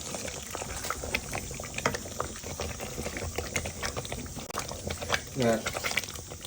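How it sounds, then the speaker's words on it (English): A pot of meatball and spinach curry bubbling and popping on the stove, with irregular soft plops and gurgles and a brief stirring sound near the end. "Now start bubbling"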